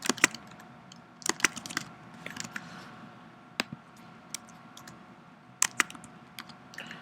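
Irregular bursts of keyboard typing, close by, with clusters of quick key clicks separated by short pauses.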